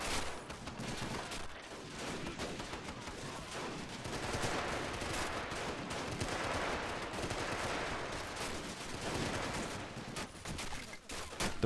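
Sustained machine gun fire from a battle at Shuri Castle in Men of War: The Pacific, a dense, unbroken roar of rapid shots and distant bursts layered together, steady throughout.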